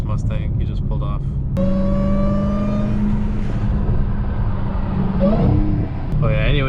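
A Ford Mustang pulls away after a burnout, its engine note rising and then holding as the car leaves, with people talking loudly over it nearby.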